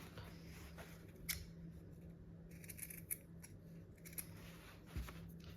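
Scissors notch the seam allowance at the corners of fabric for a workwear jacket, giving a few soft, quiet snips spaced apart over a low steady hum.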